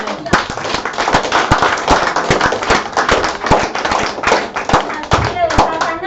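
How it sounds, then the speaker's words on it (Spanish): A church congregation claps continuously with sharp, dense, slightly rhythmic hand strikes, loud and close, while a preacher keeps talking over the applause. "Démosle un aplauso al Señor"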